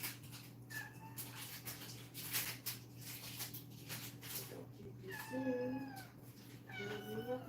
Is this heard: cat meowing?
yes